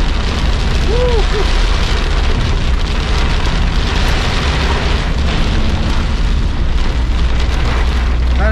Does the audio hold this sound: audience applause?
no